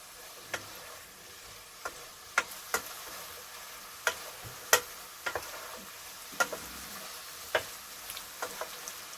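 Flour stirred through a pork fillet, mushroom, pepper and mustard sauce in a pan, a low simmering sizzle punctuated by a dozen or so irregular sharp clicks of a utensil against the pan.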